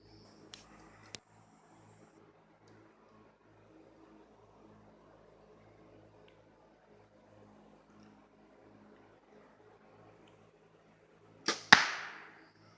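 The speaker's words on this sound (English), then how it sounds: "Something's going bzzz when it goes out of your bow." A buzz arrow shot from a bow makes a single sharp whooshing burst near the end, following a long stretch of near-quiet with a couple of faint clicks.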